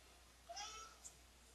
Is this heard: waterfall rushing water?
no